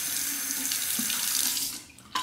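A straight razor, a Feather Japanese model, is rinsed under a running tap, with a steady broad rush of water filling a sink for about two seconds before it cuts off with a short clatter at the end.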